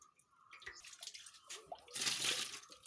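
Water drains and splashes while a freshly cut fish is washed, a faint, uneven trickle and slosh that swells into a louder gush toward the end, with no talk.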